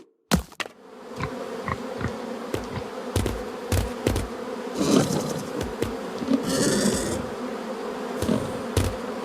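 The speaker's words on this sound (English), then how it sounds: "I hope I can get through before the bees return." Bees buzz in the puzzle adventure video game Lost Lands 9, a steady droning hum from a swarm that swells and fades, dotted with sharp clicks and taps of game effects.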